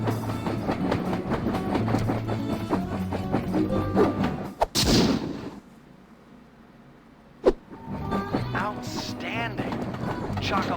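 The Iron Horse train in the video game Sly 2 rumbles and clatters with rhythmic mechanical thumps and music, then drops to a low hum broken by a sharp bang before the din resumes.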